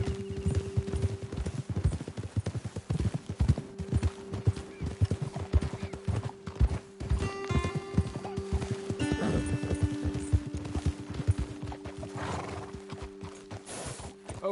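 Horses gallop in Red Dead Redemption 2, a dense run of hoofbeats close by with a couple of whinnies and neighs, and a soft musical tone running underneath.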